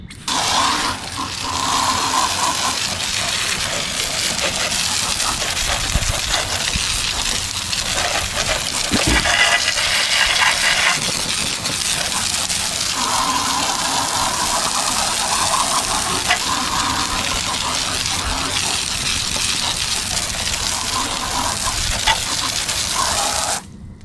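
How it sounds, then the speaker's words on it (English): A water rinse sprays foam off a very dirty car wheel rim, a loud, unbroken spray hiss that runs throughout with slight changes in pitch as the jet moves, and no talking. "let's give it a rinse and see what it looks like"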